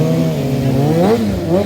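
A stunt motorcycle doing 50-50 circle wheelies at a stunt show, its engine held at a loud, steady rev that wavers slightly in pitch as the throttle shifts, close and unbroken.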